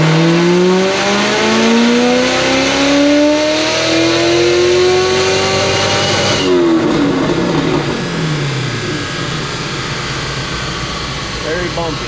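A cammed Corvette Z06 revs hard on a tuning run, its loud engine note climbing steadily through the gears and then dropping abruptly before fading back, with a voice audible at moments.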